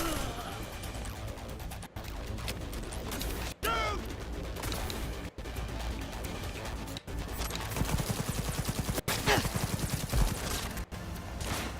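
Relentless gunfire, heavy bursts of automatic shots, fills the whole span loud and dense, with only brief gaps, alongside clanking mechanical noise and crashes.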